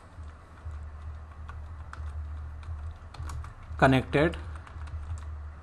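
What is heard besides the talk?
typing a command on a computer keyboard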